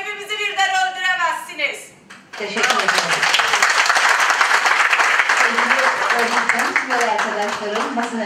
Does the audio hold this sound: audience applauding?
yes